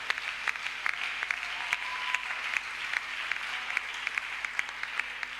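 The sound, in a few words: audience applause and cheering in church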